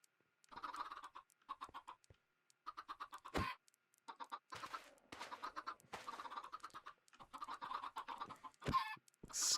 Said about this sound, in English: If I can get the chickens out of the way.